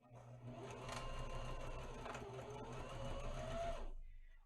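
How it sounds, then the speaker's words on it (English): Sewing machine running steadily while stitching a fabric fashion mask, a close, continuous mechanical whir with a fast needle rhythm for about four seconds before it stops. "we're just going to go ahead and sew it. Okay, just keep sewing it all the way down"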